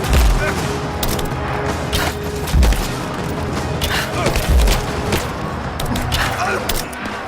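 Gunfire in Rise of the Tomb Raider rattles steadily across a courtyard battle, rapid overlapping shots punctuated by a few heavy low thumps, with shouting voices mixed into the fight.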